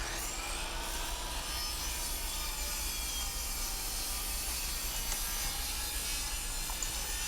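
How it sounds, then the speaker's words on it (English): Wooden stair nosing being cut on a 10-inch sliding miter saw, a quiet, steady rasping wood-cutting sound with a faint hum underneath, continuous throughout. "So now I'm just cutting nosing."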